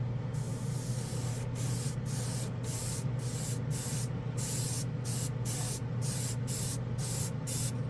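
An airbrush sprays metallic aluminum paint, a steady close hiss of compressed air and atomized paint that pulses on and off in short repeated bursts over a constant low hum.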